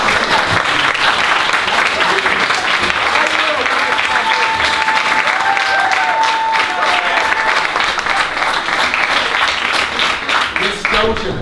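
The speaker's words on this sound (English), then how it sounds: "We have to applaud the young people." Sustained, dense applause from an audience at a school library renovation event, clapping for young people, loud and steady throughout with voices mixed into the crowd noise.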